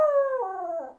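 A single long howl from Luna, a pet dog, close and clear, its pitch sliding gently downward before breaking off and fading at the end.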